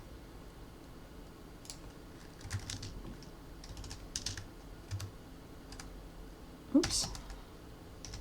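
Quick clusters of keystrokes clatter on a computer keyboard during game-engine animation work, irregular bursts of light clicks close to the mic, ending with one louder clack as a man mutters briefly.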